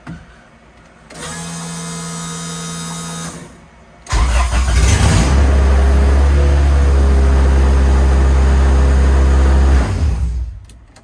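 An Acura Integra track car with no exhaust fitted cranks on the starter for a few seconds, then fires and roars into a loud, raw idle before shutting off. It is close and alone, with no voices.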